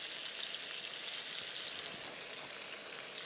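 Sausage patties fry in a pan, producing a smooth, even, quiet sizzle that holds steady throughout with no voices.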